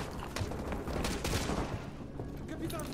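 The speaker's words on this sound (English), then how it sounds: "I'm pulling out the shotgun" Dense, continuous gunfire and explosions fill a battle scene in the Call of Duty: Modern Warfare 2 campaign as a shotgun comes out, a loud unbroken wash of shots and booms with no clear separate blasts.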